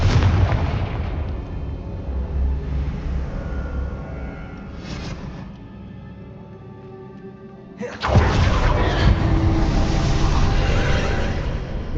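A Confringo blasting spell going off in the Hogwarts Legacy video game, with a loud, broad explosive roar breaking in after a steady rumbling game soundscape and lingering for several seconds.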